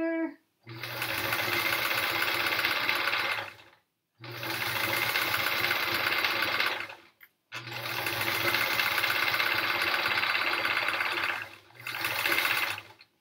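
Sewing machine doing free motion quilting, a fast steady motor chatter running in long bursts with brief pauses between them, close and loud.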